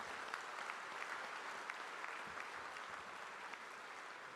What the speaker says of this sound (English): can we once again have a huge round of applause